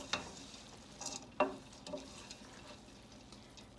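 A spoon scrapes and knocks softly in a pot of cook-up rice with dried shrimp and black-eyed peas, giving a few faint, irregular stirring sounds over a low background.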